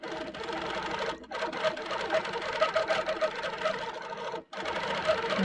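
A longarm quilting machine stitching a quilt runs with a steady, close, whirring hum, broken by two brief pauses.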